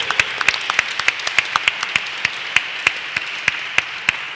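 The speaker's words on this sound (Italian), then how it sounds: "facciamogli un applauso giustamente" An audience applauds the young readers at an event, a modest group of hands clapping in a steady, fairly regular rhythm with distinct sharp claps, loud and close, with no talk.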